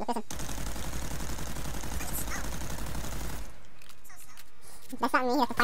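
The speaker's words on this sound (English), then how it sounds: "Look, I'm gonna light off 35 rounds." A 35-round burst of rapid automatic gunfire in Call of Duty: Black Ops Cold War zombies mode: a fast, even rattle lasting about three seconds, then quiet, with people talking afterward.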